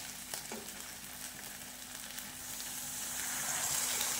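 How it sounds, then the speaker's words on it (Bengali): Water poured into a pan of chicken roast masala that is sizzling and frying, a steady close hiss and crackle that swells into a brighter, louder hiss toward the end, with no voices. "বন্ধুরা এইবারে দিয়ে দেব জল।"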